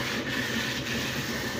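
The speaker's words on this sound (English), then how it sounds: "But at least the boxcars are working." A steady rolling rumble with faint rhythmic clicking as model train boxcars run continuously along a track.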